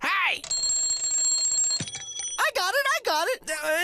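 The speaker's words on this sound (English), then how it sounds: "It's an alarm clock" An alarm clock rings with a rapid, bright metallic bell trill that runs steadily, then stops abruptly, followed by a voice talking.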